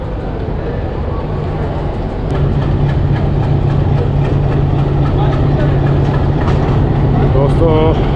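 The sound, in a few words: locomotive engine idling, Thall Express train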